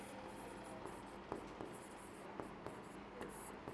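Chalk or marker writing on a board during a Hindi lesson, quiet scratchy strokes and taps recurring at an uneven rhythm over soft room noise, faint and close, with no speech.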